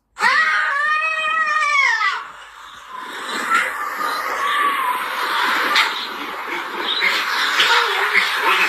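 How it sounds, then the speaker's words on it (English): A small baby screams and cries loudly, a sharp high wail that wavers for about two seconds, followed by quieter whimpering and sobbing that continues through the rest. "listen to the scream of this little baby"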